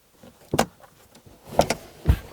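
The rear seat of a Kia Niro folds down after its lever is pulled, making a few close mechanical clunks and latch clicks. A heavier thud comes at the end, with quiet gaps between the sounds.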